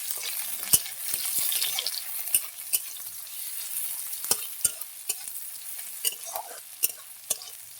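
Onions frying in a pan until reddish brown for a spinach and red lentil dal, a steady close sizzle broken by a series of sharp spoon scrapes and clinks against the pan.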